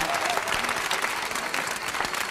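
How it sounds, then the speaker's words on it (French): Dense, loud applause from a comedy show audience at an evening event, a steady wash of many hands clapping with no break for the full two seconds. "C'est du travail de professionnel qui mérite vos applaudissements, mesdames et messieurs."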